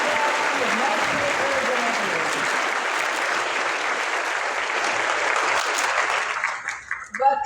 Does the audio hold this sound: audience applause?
yes